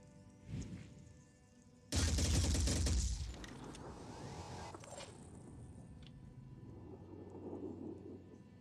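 Video game combat in Phoenix Point, with a burst of heavy gunfire against an alien Myrmidon erupting loudly after a brief quieter lead-in, a dense crackling volley lasting about a second before fading into lingering rumble and ambient game noise.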